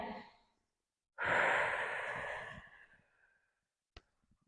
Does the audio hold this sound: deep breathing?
yes